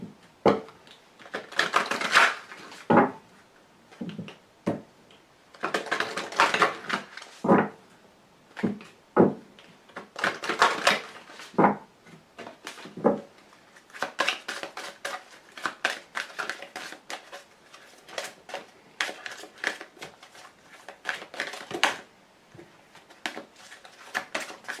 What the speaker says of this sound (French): Je vais également vous tirer une carte dont je vous ferai la lecture tout à l'heure